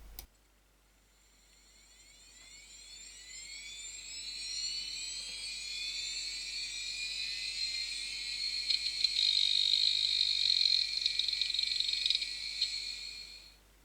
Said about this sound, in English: add the noise effects so that it sounds like a mechanical hard drive instead